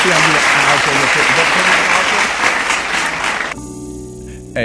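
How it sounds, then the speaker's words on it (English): An audience claps and cheers loudly and continuously for about three and a half seconds, with voices mixed in, before the applause cuts off abruptly. "Give a clap one more time."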